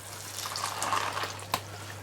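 Water poured from a container into a freeze-dried meal pouch, a soft, quiet trickle with one brief louder splash near the end.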